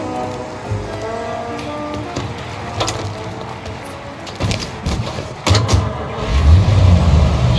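A car engine hums in Mafia: Definitive Edition, starting low and uneven and then growing louder and rougher as the vehicle pulls away toward the end.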